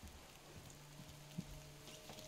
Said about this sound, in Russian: Мне так кажется, что это заскриптованный дождь